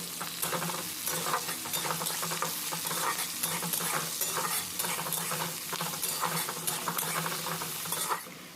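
Chopped onion and green chilli fry in oil in a pan for a drumstick and potato curry, giving a steady close sizzle with repeated scraping stirs throughout and no talking.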